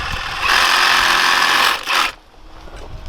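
A saw with a dull blade cutting during outdoor kitchen construction, a loud harsh buzzing grind that runs for about a second and a half, stops briefly, bursts again, then cuts off into quiet.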